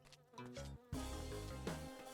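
Bees buzz in the Spelunky video game, a faint, electronic-sounding drone that pulses in short stepped tones over about two seconds.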